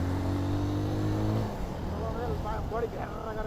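A motorbike engine drones steadily and up close during a night ride for a second or so, then fades down as voices start talking over the road noise.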